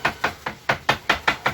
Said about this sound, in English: You have to be chopping well